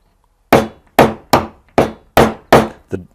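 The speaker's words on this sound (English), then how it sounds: "I'm using a small nail with a round end. It's going to give you like this hammered metal look." A small round-ended nail hammered into wood to dent it for a hammered-metal texture, giving six sharp, close taps at an even, steady rhythm with no talk.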